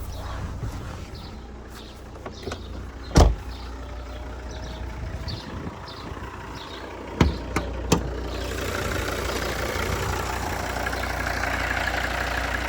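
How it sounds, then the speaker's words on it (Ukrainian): A 2.4-litre five-cylinder Volvo V70 D3 diesel engine idles with a steady low rumble, broken by a few sharp knocks and clicks, and the hum grows fuller toward the end. "Двигун працює дуже гарно, м'яко так, п'ятициліндровий звучить, дуже класно."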